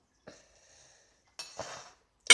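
A butter knife clinks against dishes in a home kitchen: a faint scrape, then a brighter rattle of metal on crockery, and a final sharp clink at the end.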